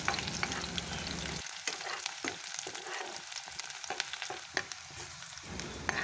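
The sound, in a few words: onions frying in mustard oil until browned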